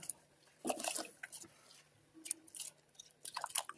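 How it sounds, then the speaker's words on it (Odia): Washed rice tipped into boiling water in a pot while making veg pulao, giving a few soft wet splashes and patters close by, with quieter bubbling between them and no talking. "ଏବେ ପାଣି ଫୁଟି ଯାଇଛି, ଚାଉଳକୁ ପକାଇ ନେବା।"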